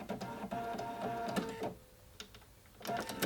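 A sewing machine understitches a continuous placket in short, uneven bursts, with soft clicks and pauses between runs as the fabric is guided by hand, close and moderately quiet.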